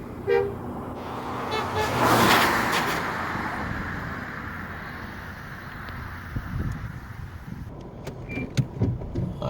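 A car moving slowly along a road through a new housing development in Old Harbour, St Catherine, with a steady low engine and road rumble, a rising whoosh of wind or passing noise early, and faint clicks near the end.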